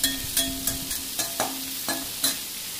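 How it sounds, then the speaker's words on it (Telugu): Onions stirred and fried in a pan for a village-style drumstick curry, with a constant sizzle punctuated by about seven distinct scraping spoon strokes at an uneven rhythm, close up, with no talking. "ఇలా కలిపి వేయించుకోవాలి ఆనియన్స్ని"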